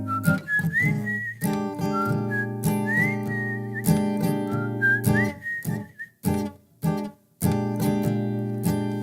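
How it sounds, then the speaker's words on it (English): A person whistles a slow, melodic tune over a steady instrumental backing with rhythmic accents, the whistle clear and prominent. "I hope y'all like whistling. I'm whistling a lot tonight."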